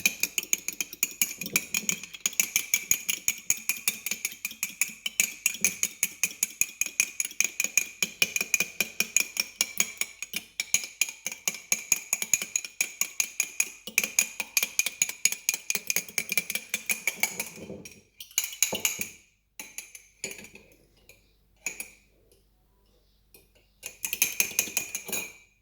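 A utensil repeatedly clinks and scrapes against a bowl while cat biscuit ingredients are mixed. The strokes come close and steady, then turn into a few sparse taps near the end.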